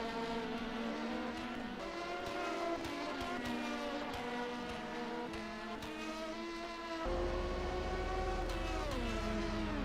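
Race car engine in a sports car racing video game at Road Atlanta, accelerating down the back straight: a loud, continuous high-revving whine climbing through gears with several shifts and a deeper surge near the end.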